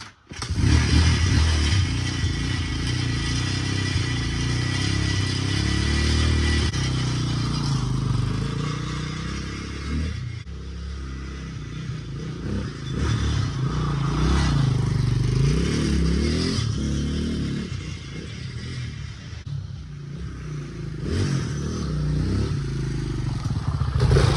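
Honda Hawk 250 motorcycle with a rebuilt rear wheel, brakes and shock, out on a test ride: engine running loud and near throughout, rising and falling with throttle, plus wind and clatter.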